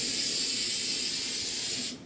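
Spray gun spraying paint onto a stance car, a steady loud airy hiss close by that cuts off abruptly at the end, with no talking.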